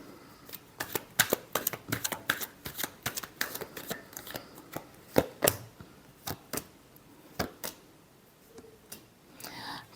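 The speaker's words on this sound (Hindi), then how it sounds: "Last shuffle." Tarot cards shuffled by hand up close, a quick irregular series of crisp riffling snaps and taps separated by short pauses, quiet between the clicks.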